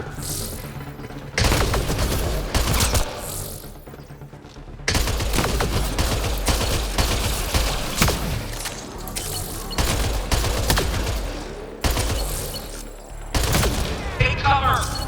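Battle gunfire in Mass Effect Andromeda: loud, sustained bursts of rapid automatic shots with booms, broken by a few brief pauses, close and intense, with voices calling out beneath the shooting.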